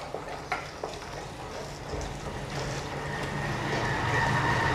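A spoon stirs fish curry in a pot after tamarind goes in, soft scraping and clicking strokes over a low simmering sizzle, with no speech.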